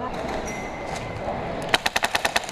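An airsoft gun fires during a skirmish as a rapid burst of about eight sharp, snapping shots close by. The burst follows a stretch of rustling outdoor background.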